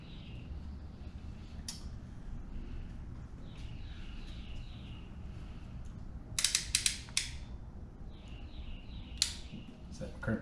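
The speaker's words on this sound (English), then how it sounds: "my terminal that I have in my locking ratchet crimpers, slide it in place. And we're crimped." Locking ratchet crimpers crimping a wire terminal for a Honda CR-V door jamb harness, heard as repeated clicking ratchet ticks building to a burst of sharp clicks, close and clear over a low hum.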